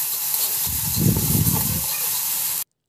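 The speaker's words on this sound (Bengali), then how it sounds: "এবার আদাটা খুব ভালো করে কষিয়ে নিচ্ছি। আদা বেশ ভালো করে ভেজে নিতে হবে।" Ginger paste with salt frying in hot oil for basanti pulao gives a steady, close sizzle that swells into a fuller, louder crackle midway, then settles back before cutting off abruptly.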